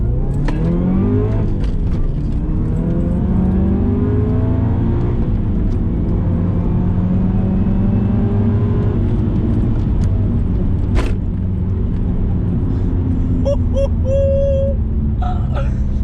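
A Subaru Legacy Turbo accelerating hard from a rolling start in first gear, engine note climbing steadily through the revs with a loud, close drone and a brief click partway through.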